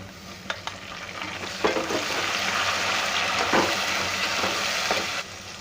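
Tomatoes and onions sizzling steadily in a pan up close for veg khichda, with a few scraping stirs and knocks over the continuous frying hiss.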